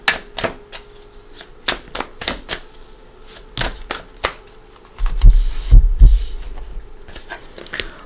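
Crisp, rapid riffling of tarot cards in irregular bursts, close by, followed by a heavier thumping shuffle toward the end; no voices.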